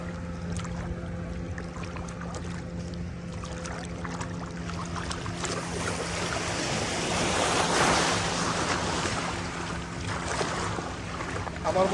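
A small dinghy rocks on the sea off Saint Martin beach, with a steady wash of water and surf around the hull over a low constant hum, swelling slightly midway and staying fairly close.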